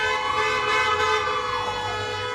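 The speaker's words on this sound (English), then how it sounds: "Supporters honked in his speeches instead of applauding." Car horns blare in a sustained, overlapping chorus at a socially distanced drive-in campaign rally for Biden during COVID-19, loud and continuous with no voices.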